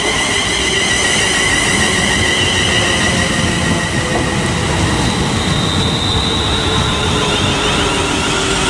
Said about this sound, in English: as the Tring to London Euston service arrives, 35266